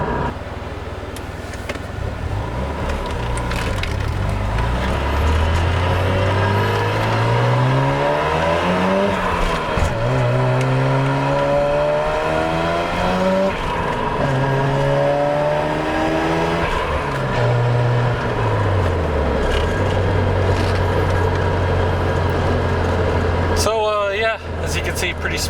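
A Mazda RX7 rotary engine revs up and down through the RPM range repeatedly at a JDM expo, rising and falling pitch sweeps loud and close, with a sharp burst near the end.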